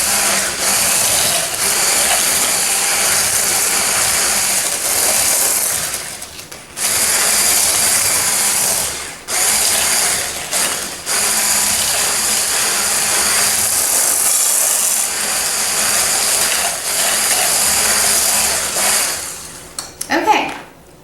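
A small electric mixer machine whips cream, giving a steady, loud mechanical whirring and rattling that runs almost without a break, with a few short pauses and a brief clatter near the end.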